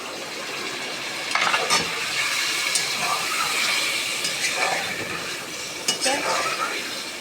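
Water hits a hot pot of sizzling spices for Pakistani beef pulao, hissing and bubbling loudly, with a spoon scraping and stirring against the pan and a couple of sharp metallic knocks.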